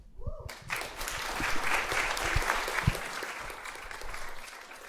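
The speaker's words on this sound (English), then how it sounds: "let's have another round of applause for all of our reporters." An audience at a community event for reporters breaks into a round of applause, a dense wash of clapping that starts abruptly and holds steady at moderate distance.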